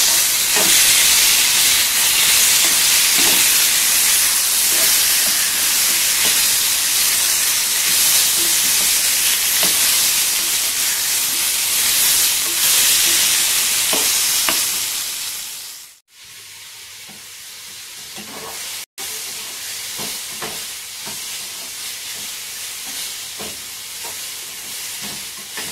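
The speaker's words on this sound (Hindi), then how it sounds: "अनियन जब ट्रांसलूसेंट हो जाए तब हम डाल देंगे इसमें टमाटर और इसे भी हम अच्छे से भून लेंगे" Onion and tomatoes fry in a pan in an Indian home kitchen, giving a loud, steady hiss and sizzle that drops out abruptly for a moment before carrying on somewhat quieter.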